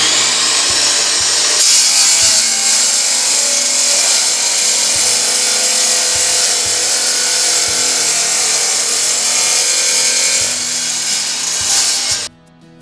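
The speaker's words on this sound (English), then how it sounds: "Turn the saw on and cut." A Dewalt wet tile saw cuts through tile, giving a loud, steady grinding whine that holds for about ten seconds, then the blade spins down and stops near the end.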